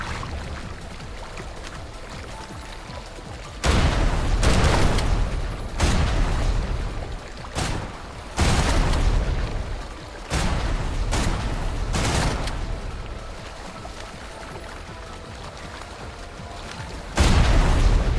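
Explosive barrel blowing up amid gunfire in the shooter game Snowbreak: Containment Zone, with repeated loud booming blasts and bursts of shots rising over a steady din of game background noise.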